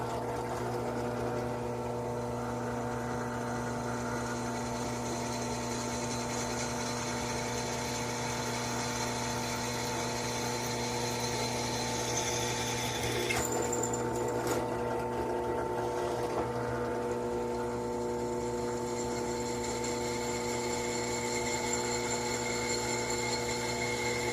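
A freshly sharpened drill bit bores into an uncenter-punched steel workpiece, producing a steady motor whine with tonal hum and a brief grinding scrape partway through, continuous and close with no speech.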